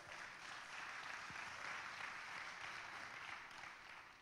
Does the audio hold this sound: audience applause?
yes